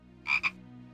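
A frog in the point-and-click adventure game Simon the Sorcerer gives a quick double croak, two short close ribbity pulses over a low steady game hum.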